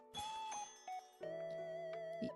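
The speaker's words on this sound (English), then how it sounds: "you heard the door chimes ringing again" Door chimes ring in a visual novel video game, a bright sustained bell-like tone struck a few times with a short pause, then a longer ringing chord that fades slowly, clear and alone.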